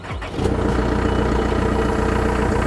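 A Snorkel SR5719 scissor lift engine cranks briefly, then catches and settles into a steady, loud, close idle with an even rumble, with no talking.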